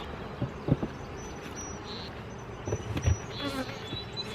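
Bees hum around a strong, busy beehive, a continuous close drone with occasional louder passes and some faint knocks and handling noise.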